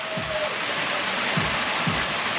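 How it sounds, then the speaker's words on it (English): Small decorative waterfalls at a Phuket beach resort give a steady, soft trickling wash, with a few faint chirps over the running water. "Little fountains. They're waterfalls, not fountains, are they?"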